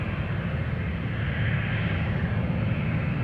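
Aircraft taking off on the runway at Amsterdam Schiphol Airport, a steady loud broadband engine roar that holds level throughout, heard nearby with no talking.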